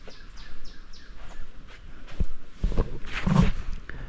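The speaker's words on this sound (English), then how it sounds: "Birds just singing away." Birds sing in the woods of Appalachia, with repeated faint chirps sounding a little way off, while nearby footsteps crunch and shuffle over the ground.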